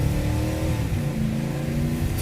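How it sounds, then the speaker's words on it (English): A Toyota Land Cruiser under hard acceleration from a takeoff, heard from inside with the sunroof cracked open: a steady, loud engine drone with pitch rising as it revs, plus wind and cabin noise. "here we're going to do a hard acceleration takeoff now that we're warmed up"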